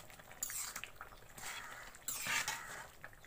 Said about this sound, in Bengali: আমি আবারও ঢাকনাটা খুলে নিচ্ছি, খিচুড়িটা একটু নেড়ে চেড়ে দিচ্ছি